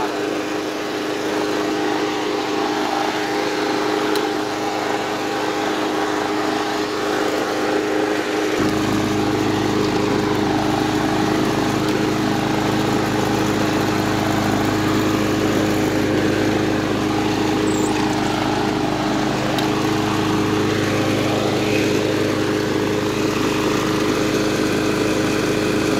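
A 2007 Snapper mower with an electric-start Briggs & Stratton OHV Intek 190cc engine runs steadily and loud throughout, its tone deepening and strengthening partway as the throttle is opened, with no talk.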